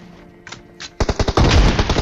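Shotgun gunfire in the PUBG battle royale game, a quiet buildup followed by a loud, rapid string of sharp blasts clustered closely together in the second half.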